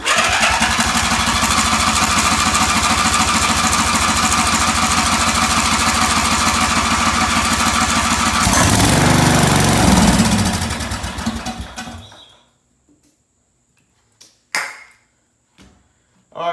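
A racing lawn mower's small engine runs on choke with a steady, loud drone for about ten seconds, briefly surges, then sputters and dies away into near silence broken by a few faint knocks and clicks.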